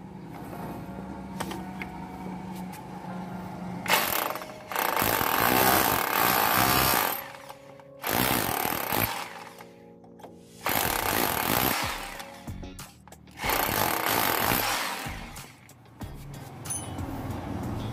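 A Bosch GBH 2-24 DRE rotary hammer set to chisel mode runs in four loud bursts of about two seconds each, separated by short pauses, with a background hum in between.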